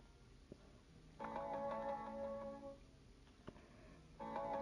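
A phone's notification tone chimes in short repeated bursts, a bright harmonic ring sounding several times with brief gaps between, fairly close and moderately loud over a quiet background.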